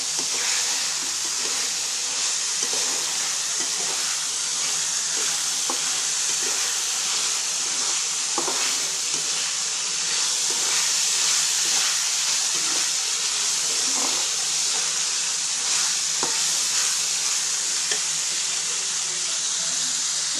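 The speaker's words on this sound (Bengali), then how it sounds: "সেই ডালটা আমি এখানে দিয়ে এখন একটু সময় ডালটাকে ভেজে নেব।" Soaked masoor dal lentils fry in a pan, producing a constant, even steam-like hiss with faint scattered crackles, heard close and alone throughout.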